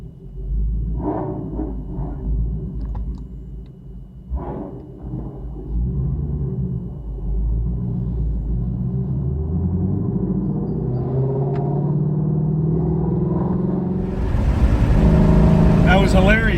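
Shelby GT350R accelerating out of a residential neighborhood, a deep engine rumble rising through gears with revving sweeps and a louder roaring surge near the end, while people talk in the car over it.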